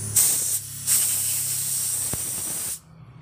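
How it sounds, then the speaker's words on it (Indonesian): Aerosol cleaner sprayed into the carburetor of a Honda Vario motorcycle: a loud, close hissing spray in two short bursts followed by one long sustained blast, then a sudden stop, with no talking. "Harus semprot nih."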